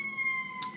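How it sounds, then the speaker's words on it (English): Emergency vehicle sirens wail in Washington, D.C., heard as steady, sustained tones for under a second at moderate volume, with no talk. "Sorry about the sirens."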